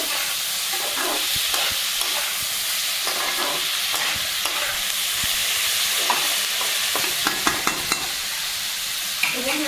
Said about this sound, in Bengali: মাছ আমি দিয়ে দিলাম, ভালো করে আমি নেড়ে চেড়ে নেব।